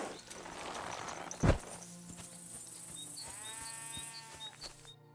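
A sheep bleats in the game Kingdom Come: Deliverance II, one wavering quavering call near the middle, preceded by a sharp thump and set against quiet ambient rustling and faint chimes.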